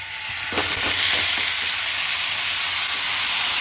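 Asafoetida and plenty of curry leaves hit hot oil with a loud, dense sizzle that swells at once and holds steady, with a few crackles early on.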